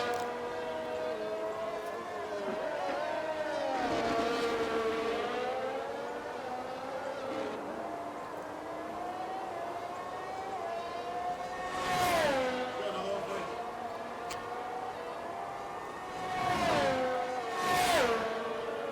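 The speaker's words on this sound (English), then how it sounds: "There's a McLaren that has just came out the pit lane on his out lap." A McLaren race car in a racing video game pulls out of the pit lane on its out lap, engine note whining and rising through gears with repeated upshift sweeps, steady and fairly loud throughout.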